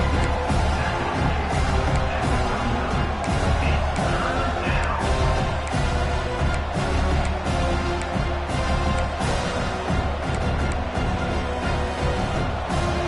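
A dense roar of a large stadium crowd at a football game fills the space, steady and loud throughout, a wash of many voices cheering at once.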